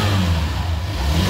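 Hero Xtreme 160R Stealth 2.0 motorcycle, 160cc, revving hard through its exhaust, a loud, steady close-up engine roar with no pauses and no voices.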